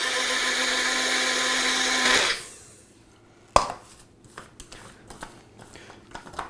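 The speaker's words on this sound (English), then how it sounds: "put this in a magic bullet like blender" A Magic Bullet-style blender whirs loudly for about two seconds, mixing turmeric golden milk, then winds down to silence, followed by a sharp knock and a few light clicks and taps of handling.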